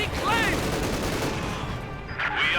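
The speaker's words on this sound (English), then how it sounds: "We've got the mortar here firing away." Mortar fire and battlefield gunfire from the Company of Heroes 2 strategy game form a dense, continuous barrage of loud, overlapping booms and crackling shots.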